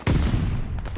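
A sudden burst of submachine-gun fire in Call of Duty Vanguard ranked Search and Destroy, a short, dense rattle of rapid shots that starts abruptly and fades within a second.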